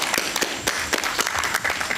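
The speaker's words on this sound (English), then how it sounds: "Can we clap hands for all the journalists who are here?" Audience at a football press conference applauding the journalists, a steady wash of many hands clapping throughout, dense and fairly loud.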